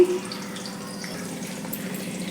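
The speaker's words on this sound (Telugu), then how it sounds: "కొద్దిగా వాటర్ కూడా పోసుకోవాలండి" Water pours into a pan of bitter gourd curry with paste and a pinch of turmeric, a steady, moderately quiet running wash with no voices.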